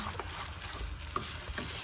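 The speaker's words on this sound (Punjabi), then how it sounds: "ਹੁਣ ਇਹਨੂੰ ਆਪਾਂ ਚੰਗੀ ਤਰ੍ਹਾਂ ਮਿਕਸ ਕਰ ਦਿੰਨੇ ਆ" Tempered sarson da saag being mixed in a pan, giving a soft, wet stirring and faint sizzle close by, with a couple of light scraping clicks and no voices.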